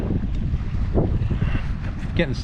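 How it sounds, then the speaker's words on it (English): Strong wind buffets a boat on Lake Mead as relentless waves slap against the hull, a steady loud roar of wind noise over the microphone with choppy water splashes underneath. "That's the only way we can get away from this wind and these terrible waves, which are just relentless on us."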